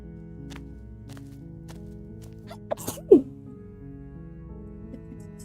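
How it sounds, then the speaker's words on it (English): A single sharp sneeze bursts out over a quiet, steady musical background, brief and close, with a few faint taps before it. "Making me sneeze."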